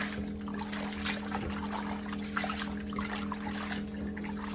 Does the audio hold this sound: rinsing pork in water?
yes